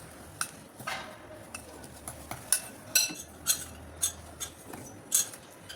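Whisking cake batter with milk stirred in one direction, a steady run of light clicking taps from the whisk against the bowl, close and fairly quiet, with no talking.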